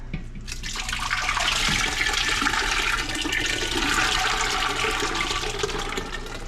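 A large container of homemade basil and garlic tomato sauce is poured into a pot, making a steady, fairly loud liquid gush that runs without a break.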